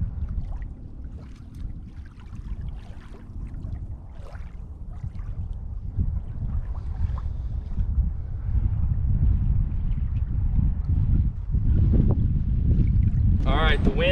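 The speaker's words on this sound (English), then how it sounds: "The wind is humming." Steady low wind rumble buffets the microphone outdoors, with faint water and boat noise and some distant voices underneath.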